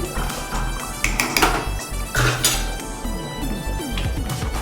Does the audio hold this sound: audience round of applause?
no